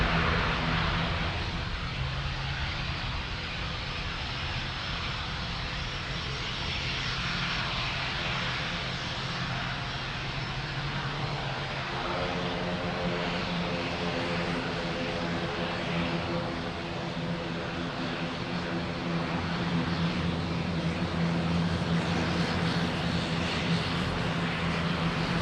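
Aircraft engines at Lisbon Airport produce a continuous droning roar with a steady hum that shifts in pitch partway through, holding at a constant level throughout.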